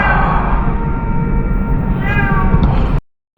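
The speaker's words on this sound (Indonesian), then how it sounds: "di sini mungkin sedikit terganggu dengan suara kucing ya" A cat meows loudly and close by inside an abandoned sugar factory, one long drawn-out yowl and then a second rising call, cut off abruptly at the end over a low rumbling background.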